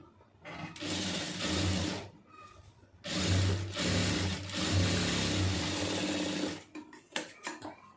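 A domestic sewing machine runs in two long bursts of rapid stitching through fabric during a simple stitching lesson, with short pauses and a few brief clicks of handling at the end.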